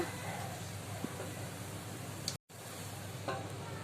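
Masala frying in a pan for paneer masala, an even close sizzle with light stirring scrapes, briefly cut to silence partway through, no talking.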